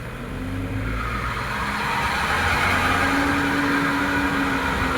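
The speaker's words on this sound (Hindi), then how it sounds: "अपनी गाड़ी का फाइन बेल्ट भी आवाज़ कर रहा है, थोड़ा थोड़ा, थोड़ा क्या बहुत कर रहा है" A truck's fan belt squeals steadily over loud road and engine noise as the vehicle drives along, a continuous whining tone with no talk.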